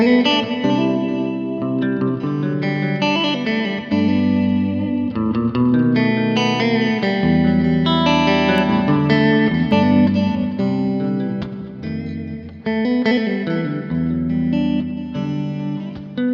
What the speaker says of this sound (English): bit of crunch, a bit of modulated delay, a bit of chorus.